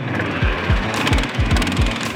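A SnowDog tracked snow vehicle with a 13.5 horsepower Briggs & Stratton motor runs on ice in northeastern Utah, giving a loud, steady, lawnmower-like chug with regular low thumps close by.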